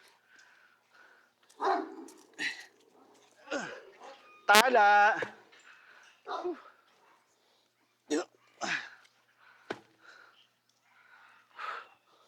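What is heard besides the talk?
pet dog barking and whimpering while playing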